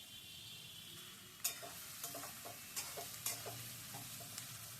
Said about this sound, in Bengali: নেড়ে ছেড়ে আলু পেঁয়াজ সবগুলোকে ভেজে নিচ্ছি।